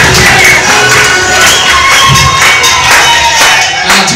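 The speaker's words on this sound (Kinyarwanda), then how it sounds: "amashyi menshi" A large crowd in Musanze, Rwanda, applauds and cheers at a gathering of traditional healers joining the FPR Inkotanyi. Loud and close, the dense clapping and shouting rise and fall in waves throughout.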